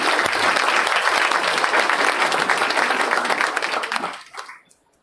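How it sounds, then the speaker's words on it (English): A large crowd applauds steadily for several seconds at an Engineers Day event, the clapping dense and loud before tapering off quickly into near silence at the end. "I would like to give a big round of applause to all those students."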